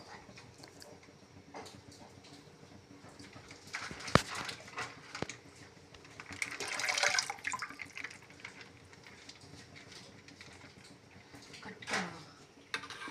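A brief splashing pour of water into a pot for bottle gourd and sago kheer, swelling midway and fading, with scattered clinks and a faint background hum.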